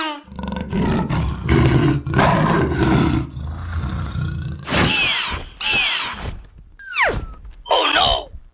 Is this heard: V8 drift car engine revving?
no